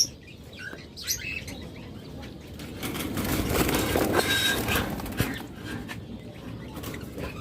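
Red-eyed birds chirp at a bird farm, several faint tweets and short calls over a rumbling background that builds in the middle, heard from a moderate distance with no talk.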